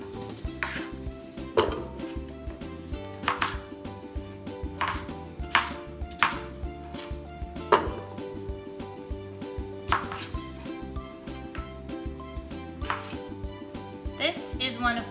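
Knife chopping a peeled vegetable into large chunks for autumn soup, steady irregular thuds on a cutting board, close and clear over a constant background of music.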